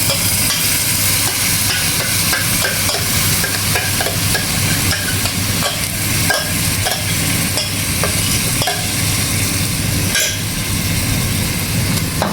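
Masala mix frying in a hot pan for vegetable masala pulav, a loud, steady, dense sizzle with scraping stirring strokes throughout.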